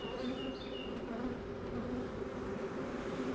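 Honeybees buzz continuously around an open hive as wax is worked on top, a dense close swarm drone with individual wingbeats passing near, no talking.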